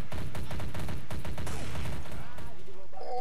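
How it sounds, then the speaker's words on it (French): Video game gunfire as a crowd of players all shoot into the air at once: dense, rapid overlapping shots crackling continuously for a few seconds, with brief voices mixed in near the end. "tout le monde tire dans les airs"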